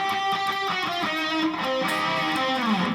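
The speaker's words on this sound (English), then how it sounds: "double stops. This is different power chords, but it's still 2 notes played at the same time." An electric guitar plays bluesy double stops, two notes sounding together in repeated plucked figures with a bend-like slide near the end, clear and alone.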